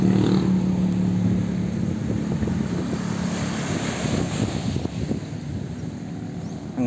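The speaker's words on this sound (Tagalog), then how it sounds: "Ang fresh ng simoy ng hangin dito." Strong wind gusts buffet the microphone on the Pacific coast at Bislig, a constant low roar with faint surf beneath, close and continuous with no talking.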